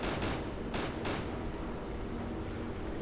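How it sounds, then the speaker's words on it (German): Gunfire in the video game DayZ, with several rapid, heavy shots in the first second followed by a dense, sustained rumbling din, loud throughout with no talking. "Jetzt schießen."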